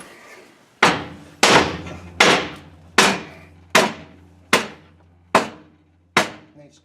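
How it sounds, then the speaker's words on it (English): Eight evenly spaced hammer blows on a 2006 Ram Turbo Diesel's cat-back exhaust, loud and close, each with a short metallic ring that decays before the next strike. "Hammer on it and support it."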